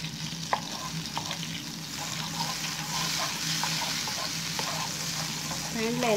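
Butter melting and sizzling in a heated pan, a soft, steady low sizzle with a few light clinks and scrapes, no talking.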